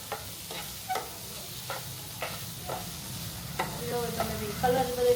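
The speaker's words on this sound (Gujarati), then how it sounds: "બધું જ વસ્તુ બરાબર આપણે મિક્સ કરી દઈશું." A spiced stuffing mixture with asafoetida and coriander-cumin powder is stirred in a pan for tacos, a spoon scraping and clicking at a loose, irregular rhythm over a low, steady sizzle.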